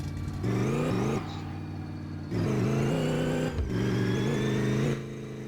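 A Dodge Charger's engine revs hard in bursts in the My Garage video game, climbing and dropping in pitch over three loud surges with brief dips between, the tires burning out beneath the roar.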